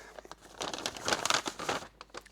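A plastic bag crinkles and rustles in irregular bursts as it is pulled out of an opened Olivetti M24 laptop case, close and fairly quiet, with no talking.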